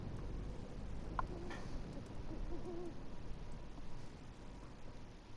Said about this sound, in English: Look at the owl.